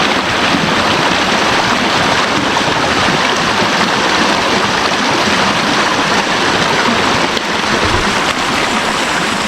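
Loud, steady rushing water fills the whole clip, a constant roar like a waterfall pouring into a flowing stream, with no voices. The Garhi Satana waterfall near Haripur, Pakistan, with very clear, cold water.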